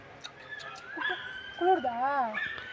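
A puppy whines and yelps in short, rising and falling cries, fairly close, during a chilly family outing in Kodaikanal, with faint background noise around it.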